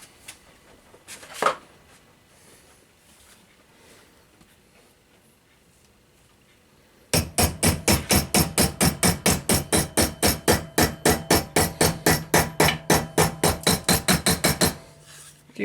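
One sharp knock, a pause, then a rapid run of ringing metallic hammer taps on boiler plate held in a vise, evenly spaced and loud, ending abruptly.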